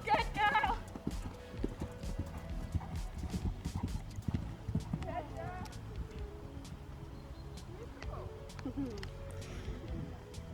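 Hooves of a horse trotting on a cross-country competition course beat in a steady, close clip-clop rhythm, with a rider talking over them and birds calling faintly in the background.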